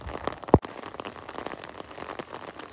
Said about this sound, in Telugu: Only rain.